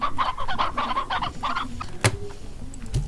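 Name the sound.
hens clucking in Slime Rancher video game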